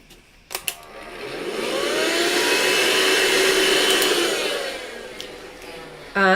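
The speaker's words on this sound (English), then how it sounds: "Let me just vacuum that as well." A small vacuum cleaner runs over a pastel drawing, whirring up smoothly with a steady hum that swells and then tapers off. A few light knocks come before and after it, and no one speaks.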